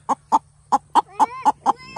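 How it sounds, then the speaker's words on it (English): A chicken held in someone's hands while its wing is pulled out for clipping gives eight evenly spaced, fairly loud clucks, each short and close, with a faint background hum and no talking. "Now that we have the chicken right here, we're going to get its wing and pull its wing out like this."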